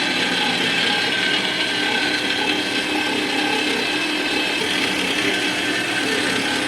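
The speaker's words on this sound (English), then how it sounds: "So we'll go ahead and let this bandsaw go ahead and keep cutting to get these" A bandsaw cutting through metal tubing while a large welding table is built, producing a continuous steady grinding hiss with a metallic ring, loud and close throughout with no talking.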